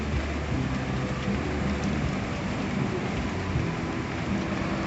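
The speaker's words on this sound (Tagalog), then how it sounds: "Ulan." Rain falls steadily at a beach resort, a dense, even hiss of drops with a low rumbling undertone, continuous and unbroken, with no voices.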